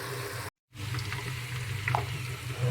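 Meat sizzling and frying in a cooking pot while spices are added, a steady close crackling hiss with a brief gap near the start and faint stirring clinks.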